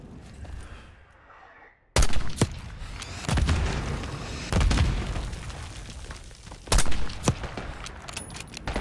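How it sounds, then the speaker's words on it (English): Mortar blasts and rapid gunfire from the Call of Duty: Black Ops 6 campaign, heavy booming explosions hitting at intervals over a constant rattle of battle noise after a brief quieter opening. "Got mortar fire!"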